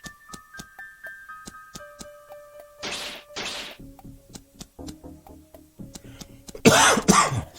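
A sick person coughs in a couple of harsh bursts and again near the end, close and fairly loud, among soft taps, clicks and faint electronic tones.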